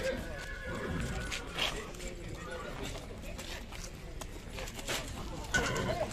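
At the Bishkek horse market, a horse neighs briefly amid people talking, hoof clops and general market bustle, with a second faint whinny near the end.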